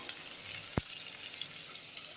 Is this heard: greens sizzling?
yes